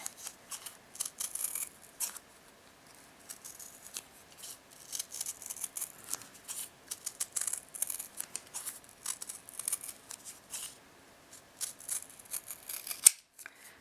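Small scissors trim paper-backed shibori silk embroidery for earrings, giving a run of rapid, close, papery snips and crunches with brief gaps between them, and no speech.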